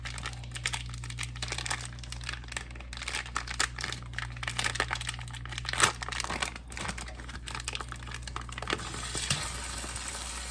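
Ground pork frying in olive oil in a Dutch oven, a steady close crackle and sizzle with crinkling bursts running the whole time, under a low constant hum, with no talk.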